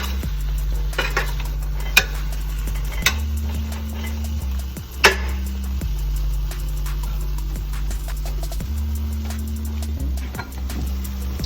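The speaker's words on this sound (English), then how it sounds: "Well, mixing your apples around. Making sure they cook evenly." Sliced apples fry in a pan, a soft sizzle running under repeated scraping and clinking of a spoon as they are stirred, with a steady low hum behind and a couple of sharper knocks against the pan.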